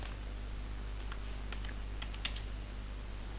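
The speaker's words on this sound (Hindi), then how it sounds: "PE लिख के एंटर करें" Keys tapped on a computer keyboard while entering the PE command in AutoCAD and pressing Enter: a handful of quick, light clicks in two short bursts over a steady low hum, with no talking.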